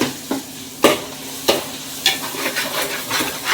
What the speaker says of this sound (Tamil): இப்போது மீன் குழம்புக்கு வதங்கிட்டு இருக்குது. தக்காளி வதங்கிட்டு இருக்குது.